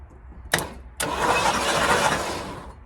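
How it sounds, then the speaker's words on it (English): A Lincoln Mark V, abandoned for 27 years, has its engine cranking over on the starter during a solenoid test: two short clicks, then a steady, loud whirring crank that runs on without firing. "Starter works, engine's turning over."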